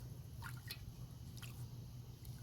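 Water sloshes and drips in a gold pan while panning paydirt, with a few soft splashy trickles over a steady low background hum.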